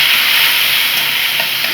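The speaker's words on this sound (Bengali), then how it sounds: "টমেটোটা আমি ভালো করে নাড়াচাড়া করছি" Tomato and ginger paste fry in a pan with a loud, dense, continuous sizzle heard up close, steady and unbroken for a short moment.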